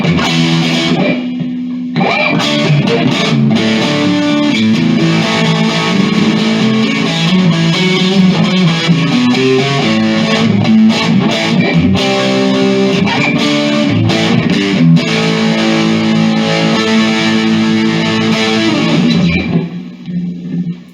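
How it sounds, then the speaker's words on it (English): An electric guitar played through an Artist TweedTone20R 20W tube combo amp, distorted and sustained over about twenty seconds, then cut off to leave a long reverb tail fading away. "It's really got quite a tail on it,"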